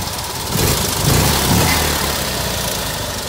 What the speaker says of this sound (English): the car runs really nicely. I mean, idles nicely, accelerates